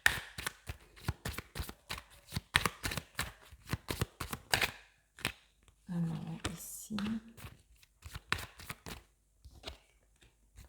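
Oracle cards for cartomancy being shuffled close up in a quiet room, a rapid series of crisp riffling flicks and soft slaps, with a brief low murmur partway through.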